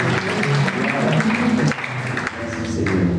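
A church congregation applauds steadily through a dense patter of clapping, while a voice speaks over the applause.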